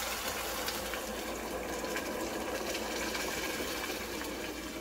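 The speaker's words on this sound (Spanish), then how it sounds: "Vamos a agregar los frijoles y lo voy a agregar así todos" Cooked beans with broth are poured into a pan all at once, making a continuous, fairly loud liquid rush and splashing throughout.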